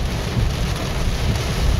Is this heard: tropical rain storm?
yes